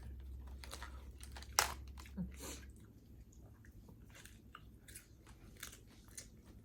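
Someone eats papaya salad with large shrimp, making soft close-up bites and chewing with a few sharp crunches early on. The sounds are quiet and irregular, with a little talk in between.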